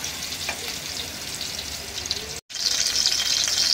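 Green chillies sizzling slowly in a pan, a steady continuous frying hiss with faint bubbling, briefly cutting out for a moment before resuming slightly brighter.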